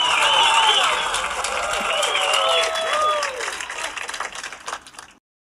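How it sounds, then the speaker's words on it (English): Audience clapping and applause on a podcast set, dense clapping mixed with whoops and cheers that stays strong, then thins into scattered claps before stopping. "Clap it up one time for our guy"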